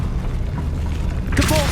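The Depulso force spell fires in Hogwarts Legacy: a sudden bright whooshing burst with a rising tonal sweep near the end, over a steady low game ambience.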